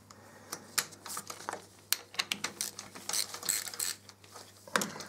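A spark plug socket ratchet clicks on a 2013 Triumph Street Triple R, with quick bursts of close, crisp pawl ratcheting and metallic handling noises at a fairly quiet level.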